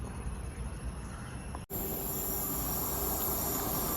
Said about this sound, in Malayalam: ഏറനാട് എക്സ്പ്രസ് ആണ് പോകുന്നത്.